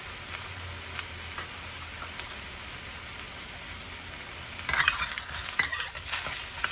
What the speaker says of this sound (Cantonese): 所以我用咗就係咁攞個鑊兜佢睇下，